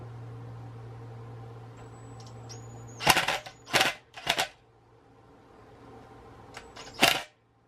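An impact gun working on a Sur Ron Light Bee swing arm bearing: three short rattling bursts close together, then a fourth after a pause, over a steady low hum with faint electronic beeps.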